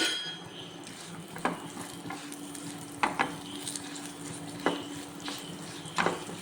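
Soft sizzling in a pan with a spoon scraping and clinking against it every second or so as almonds are stirred into melted sugar and butter.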